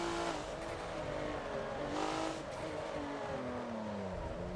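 A Porsche in the Forza racing game on Homestead's super mini track lifts off and slows toward a hairpin, its engine note dropping and wavering under a steady drone, with faint tire noise and no speech.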